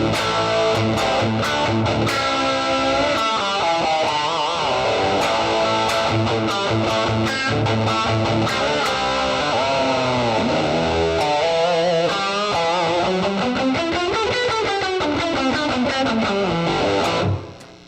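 Heavily distorted electric guitar plays chords and sliding riffs continuously, loud and saturated, with no voices.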